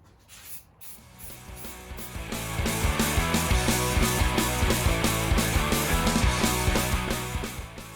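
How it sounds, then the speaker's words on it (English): Semi-gloss rust paint is spray-painted onto Jeep hood latches, giving a close, even hiss pulsed by rapid rhythmic bursts. The spray swells over a few seconds, then fades slightly. "we're just going to hit them with some semi-gloss rust paint here"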